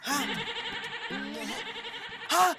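A cartoon lamb bleats in three short, quavering calls spread across the moment, set over a busy bed of background music and sound.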